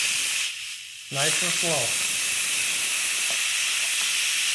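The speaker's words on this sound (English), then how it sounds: "we're gonna release the valve here" Steam hisses loudly and steadily from the pressure release valve of an Instant Pot cooking a stew, a broad continuous rush that carries through the whole moment while someone speaks briefly over it near the start.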